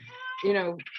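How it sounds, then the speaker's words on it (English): A cat meows once indoors, close and fairly loud, with a drawn-out rising and falling call that ends in a short chirp, and nobody speaks. "If you hear meowing, it's one of my little fluffy friends"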